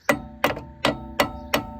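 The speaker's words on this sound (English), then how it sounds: "we want to hammer it up from the bottom there" A hammer taps a brake pad part on a 2018 Seat Arona, five sharp metallic strikes about every third of a second, close and loud with a short ring after each.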